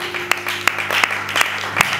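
A funeral congregation claps in praise of God, scattered sharp hand claps popping over a murmuring background, moderately loud and irregular.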